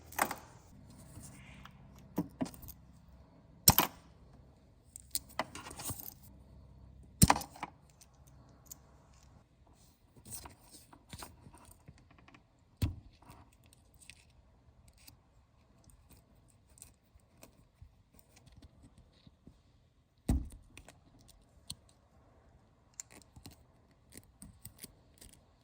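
Wire cutters snip speaker wires during a motorcycle front fairing speaker install, giving a few sharp, isolated clicks and snaps scattered across otherwise quiet handling noise, close up with no talking.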